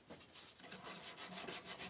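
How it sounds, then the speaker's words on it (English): Faint rhythmic rasping as roughly 220-grit sandpaper is rubbed back and forth by hand over a varnished wooden coffee table, several quick scuff-sanding strokes, quiet and close. "this is what I mean by a scuff sanding"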